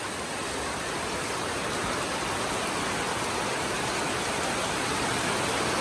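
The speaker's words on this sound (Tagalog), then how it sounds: "Kasi sobrang lakas talaga guys ang ulan." Heavy rain pouring at a poultry farm, a dense, constant hiss of downpour with no breaks, loud and enveloping throughout.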